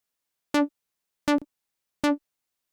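Serum synthesizer pluck sound in Ableton: three short, bright, evenly spaced plucked notes, each decaying quickly into silence, dry and alone.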